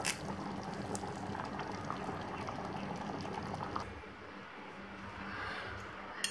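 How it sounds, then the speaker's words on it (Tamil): Chettinad egg curry (muttai kuzhambu) boils in a pot on the stove, giving a soft, steady bubbling and popping that stays faint and close, with no voices over it. "நல்லா கொதிச்சிருச்சு, முட்டையிலலாம் வந்து நல்லா மசாலா இறங்கிடுச்சு."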